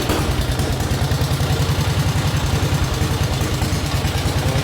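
A 1912 Harley-Davidson X8A motorcycle engine runs steadily at idle after starting, with a loud, close, rhythmic low-pitched thumping and mechanical clatter throughout.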